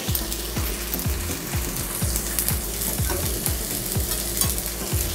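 Onion fries in a pan with a steady crackling sizzle, while a utensil scrapes and stirs in a regular rhythm of roughly two strokes per second, close up and without talk.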